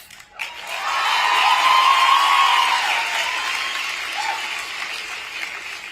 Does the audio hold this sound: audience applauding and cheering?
yes